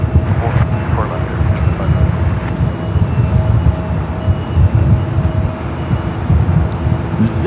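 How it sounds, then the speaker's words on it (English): Airliner taking off from LAX on the north side, a loud continuous rumbling jet roar filling the clip, with someone talking over it. "Zipping out up here for a north side takeoff."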